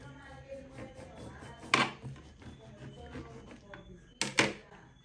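A knife cutting open a seedless atemoya fruit on a table, a few scraping cuts and two sharper crunchy slices, close and moderately loud, with no one speaking.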